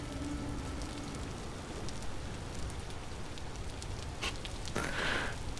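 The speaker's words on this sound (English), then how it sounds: "Man, the rain's loud." Steady rain falling in the video game Vintage Story, a continuous even patter of drops on surfaces with a couple of brief louder hiss bursts near the end, no talking.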